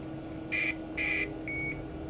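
Three short electronic beeps in a row from a multimeter continuity buzzer testing a Dell Mini 10 laptop motherboard, steady pitched tones with brief gaps, over a low background hum.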